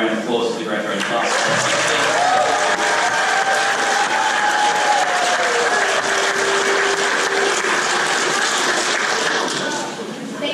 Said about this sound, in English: We have another round of applause for the graduating class.